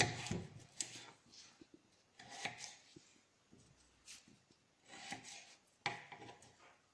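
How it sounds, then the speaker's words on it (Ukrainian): Knife cutting material into small bars on a board, a series of short crisp strokes in bursts with pauses between, close and moderately loud. "І тоді нарізаємо на такі брусочки."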